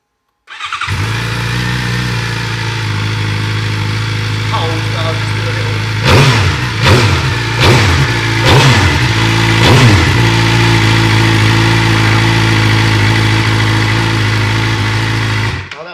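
A Suzuki GSX-R750 motorcycle with a new exhaust pipe idles close by with a steady, low rumble, and a brief cluster of short throttle blips rises in the middle before it settles back to idle.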